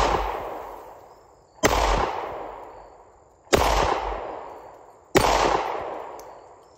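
Three sharp, loud gunshots from a Springfield XDS Mod 2 3.3 .45 ACP pistol, evenly spaced about two seconds apart, each followed by a long echoing decay across an open range, plus one earlier shot tailing off at the start.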